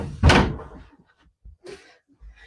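A bedroom door closes with a single heavy thud, followed by a few soft knocks and rattles as the room goes quiet.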